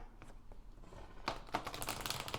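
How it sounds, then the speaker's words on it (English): Tarot cards are shuffled close by, a rapid papery riffle and flutter that builds louder toward the end, with no talking. "I'm going to shuffle a couple more times."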